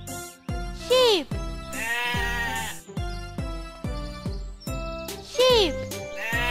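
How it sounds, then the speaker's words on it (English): Two clear sheep bleats, one near the start and one near the end, ring out over a cheerful looping children's tune with tinkling bells and a steady rhythmic backing. "Sheep."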